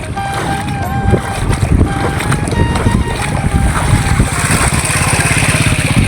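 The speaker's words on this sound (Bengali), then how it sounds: "এই যে দেখেন একটা বাইক গেল" A motorcycle rides through a flooded road, its engine hum rising and passing close while water churns and splashes under the wheels, with loud wind noise and faint voices in the background.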